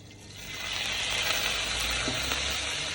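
Oil sizzles steadily in a very hot pan while biryani is being cooked, starting soft and swelling into an even, hissing fry that carries on close by with no talk over it.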